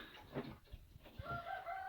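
Roosters, including a Marans rooster, and hens making short clucking and crowing calls close by, with a faint whistle-like tone in the background.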